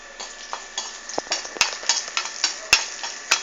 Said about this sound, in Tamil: முதல்ல வந்து வத்தலை கொஞ்சம் வறுத்து எடுத்துட்டுறணும்